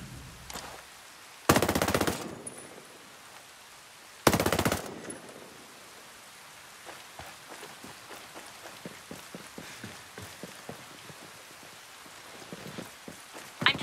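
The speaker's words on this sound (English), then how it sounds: "I'm taking hostile fire." Gunfire in the video game Ghost Recon Breakpoint comes as two loud, sustained automatic bursts early on, followed by scattered fainter single shots and crackles in the background.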